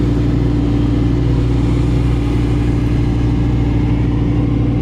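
A Lamborghini engine gives a loud, steady rumble with a deep idle hum, close up and continuous throughout, no voices.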